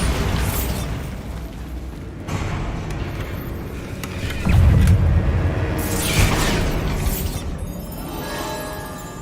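A Bombarda blast spell going off in a Harry Potter video game: a loud, deep explosive boom rises midway and rumbles on, set within a dense layer of game noise and effects.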